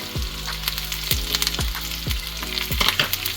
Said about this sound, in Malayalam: ഇനി ഇതൊന്ന് ആ എണ്ണയിലൊന്ന് വറുത്ത് ഈ കപ്പയിലേക്ക് ഒഴിക്കണം